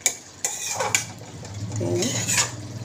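A utensil stirring begun posto (aubergine in poppy seed paste) with sugar in a pan: scraping and clinking against the metal, a few sharper knocks, with a faint background hum.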